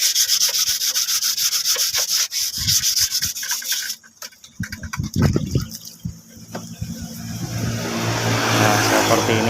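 Wet sanding of a motorcycle body with soapy water at a roadside paint job: steady rhythmic scrubbing and rubbing, loud and close, fading into a rougher wash of friction and passing traffic noise near the end.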